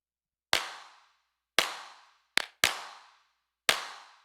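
Layered hand clap samples from a music production track, five sharp dry hits at uneven spacing, two of them close together, each with a short bright decay and no other sound between.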